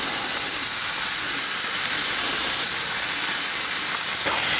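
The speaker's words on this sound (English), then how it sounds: "That's a nice sizzle." Steady, loud hissing sizzle of Greek chicken souvlaki skewers cooking on a hot grill, continuous and close, with no talking.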